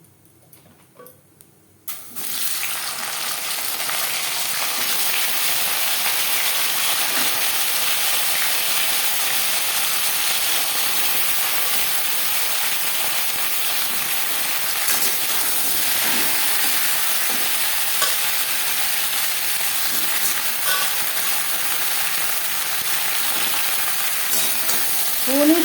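Okra and whole cumin seeds frying in hot oil in a pan: a steady, loud sizzle that starts abruptly and hisses on continuously, with faint stirring scrapes and no speech.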